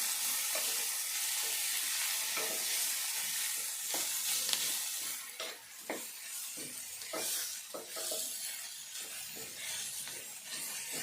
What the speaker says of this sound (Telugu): వేసుకొని ఇదంతా కూడా కొద్దిసేపు మంచిగా గోలాలి.